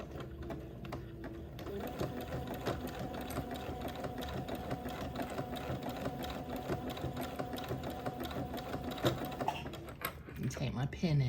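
A sewing machine zigzag-stitches over gathered lace for a baby girl's layette, a steady close whirring chatter that runs almost without a break, with a voice talking over part of it.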